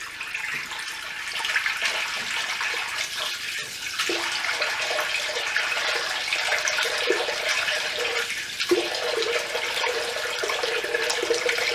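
Running water while a face is washed at a sink, a steady hiss and splash of lukewarm water continuing throughout, with a few brief bursts of louder splashing.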